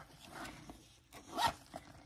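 Zipper with a rose gold pull on a full-leather makeup bag, opened in several short, quiet rasping pulls, the loudest near the end, with no voices.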